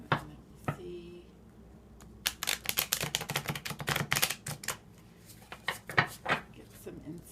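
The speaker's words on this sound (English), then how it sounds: "Shuffle one more time," Tarot cards are shuffled in quick bursts of dense, crisp flicking and clicking, close and moderately loud, after a few brief sounds at the start.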